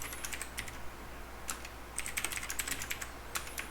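Quick keystrokes on a computer keyboard, including a Ctrl+D combination and Enter, sound as sparse clicks in short bursts with pauses between them, close up over a steady low hum.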